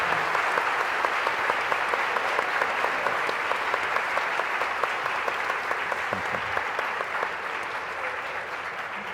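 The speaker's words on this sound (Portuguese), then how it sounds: "Uma salva de palmas para eles, por favor." An audience at a university debate on drug policy applauds for about nine seconds, a full, steady roar of many hands that fades slightly toward the end, with no talk over it.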